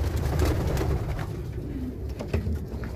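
Meat pigeons, white, silver and red birds, coo in a farm loft: several soft, low, throaty calls overlap at close range against a faint background murmur.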